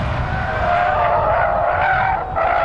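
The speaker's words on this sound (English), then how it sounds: "Big wheel spin." A small Suzuki or Subaru car spins its wheels on a race track, giving a sustained squealing, skidding tire sound over a continuous engine roar.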